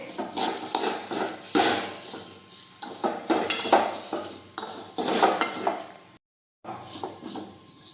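Roti snack pieces being stirred and tossed in a pan on a gas stove, giving steady dry scraping and clattering of a utensil against metal in repeated bursts, with one brief pause.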